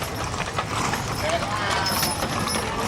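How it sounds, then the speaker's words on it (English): Steady clip-clop of several horses' hooves on hard ground, close by, from a hitch of Berkshire geldings and Haflingers at a Christmas parade in Lawrence, beneath a voice talking amid outdoor crowd noise. "owned by a team of registered Berkshire geldings, Luke and Lance, 7 and 9 years old."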